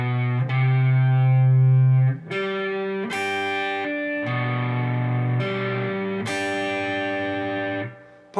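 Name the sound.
electric guitar playing chorus part 3 of a song slowly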